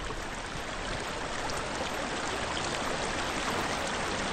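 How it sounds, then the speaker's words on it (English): A steady, full rush of falling water from a waterfall in the video game Hellblade: Senua's Sacrifice, a dense, even roar that holds constant throughout with no voices. "Waterfall, complete things."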